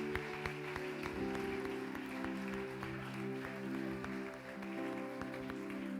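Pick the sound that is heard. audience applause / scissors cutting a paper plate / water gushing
audience applause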